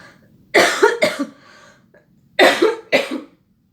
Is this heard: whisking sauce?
no